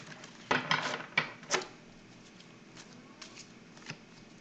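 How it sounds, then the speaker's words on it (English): Tarot cards are riffled and shuffled nearby in a few quick bursts, followed by softer scattered shuffling and light tapping in a quiet room. "Shuffle these cards, and I'm"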